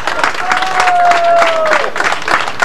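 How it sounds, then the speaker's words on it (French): Audience applause for performers at a 1995 comedy festival beach show in Villeneuve-sur-Lot, a dense steady patter of clapping throughout, with a sustained whistle-like tone rising over it midway. "Faut les applaudir."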